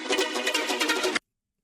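A synth layer run through an effects rack for a dark electronic track, a dense bright pulsing wash of processed tones that plays steadily at full level, then cuts off abruptly into silence.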